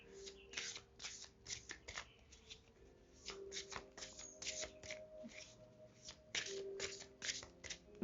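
A deck of tarot cards is shuffled by hand in soft, close riffles and rustles that come in irregular bursts with short pauses, quiet and without talk.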